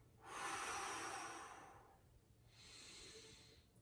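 A long, airy exhale during a bridge exercise, close and soft, followed after a short pause by a second quieter breath, with no talking.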